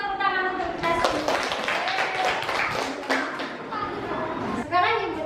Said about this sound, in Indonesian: Oke, kita kasih tepuk tangan untuk kita semua.